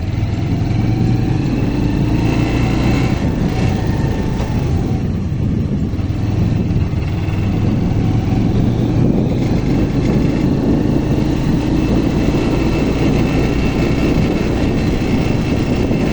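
A small motorcycle or scooter engine runs steadily and close for a long stretch. Its low droning hum rises slightly as the learner rider picks up speed, with no talk over it.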